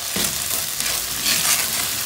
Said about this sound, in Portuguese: E agora eu vou deixar fritando aqui esse arroz até ficar sequinho